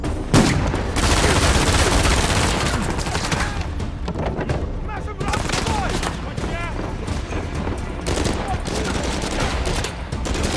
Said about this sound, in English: Dude, they're shooting all over the place.